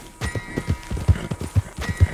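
Hooves of a Missouri Fox Trotter horse in a western video game, a quick uneven run of clip-clop beats, close and fairly loud, with no talk.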